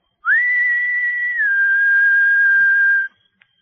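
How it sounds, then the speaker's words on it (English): Someone gives a single soft human whistle in an old radio drama, a clean, sustained tone that rises, holds, dips slightly and then stops, alone against near silence. "Looking up, he whistled softly."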